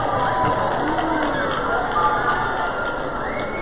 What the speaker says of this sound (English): A round of applause for the Bulldog.